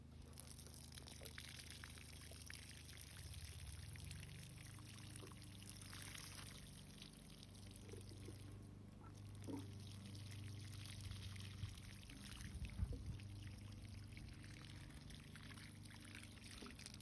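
Water mixed with plant food pours from a watering can onto garden plants in a faint, continuous trickle and splash, heard quietly from a little distance.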